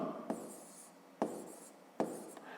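A pen writing numbers by hand on paper during a school maths exercise: three soft scratchy strokes, each starting with a sharp tap, close and quiet with no talk.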